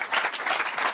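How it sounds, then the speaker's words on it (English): Audience at a hypnosis stage show giving the volunteers a round of applause, a brief, moderately loud burst of crowd clapping. "Give them a big round of applause."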